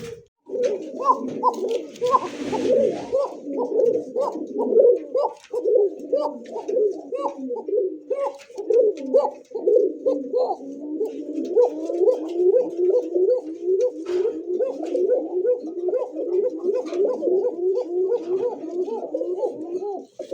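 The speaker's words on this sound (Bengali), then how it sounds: "এটা হচ্ছে কোকা কবুতর" Koka pigeons coo in continuous overlapping rolling calls close by, with a brief rustle early on and no talking.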